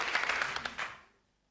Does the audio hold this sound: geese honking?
no